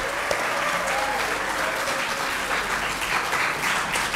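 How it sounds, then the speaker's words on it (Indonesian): An audience at a university public lecture on the Indonesian language and literature claps for the speaker, a sustained burst of many hands, close and steady with no speech. "Mari kita beri tepuk tangan yang meriah untuk pembicara kita."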